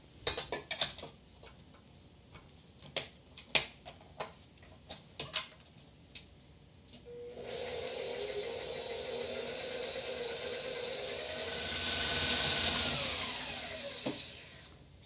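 Stand or hand mixer beating sticky gluten-free peanut butter cookie dough in a bowl, starting after several scattered knocks and clicks, then a steady loud whir that climbs slightly in pitch before stopping, with no voices.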